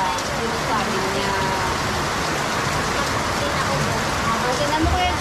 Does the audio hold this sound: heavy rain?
yes